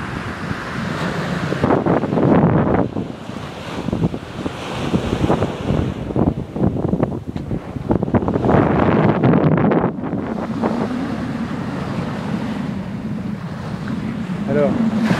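Ocean waves break and wash onto the beach at Étang Salé, Réunion, under a south wind, with a steady loud surf roar, gusts of wind buffeting the microphone and a few faint voices in the background.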